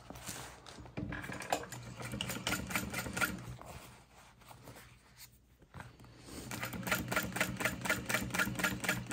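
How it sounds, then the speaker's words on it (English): A sewing machine stitches quilted backpack fabric slowly, with a soft, fast steady needle clatter that pauses briefly midway and then resumes, faint and close with no talking. "I'm just gonna sew really slow, making sure nothing jumps around."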